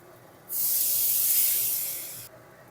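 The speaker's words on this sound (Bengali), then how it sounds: "এতে একটু জল দিয়ে দেব তবে মশলাটা ভালো করে কষা যাবে" Water poured into a pan of frying spice paste for a vegetarian fig (dumur) curry bursts into a loud, bright sizzling hiss that starts abruptly, holds for nearly two seconds, then fades and cuts off.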